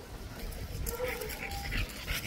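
A bull-breed stud dog from a kennel whimpers and yips softly, with brief high whines over a noisy outdoor background while someone talks nearby.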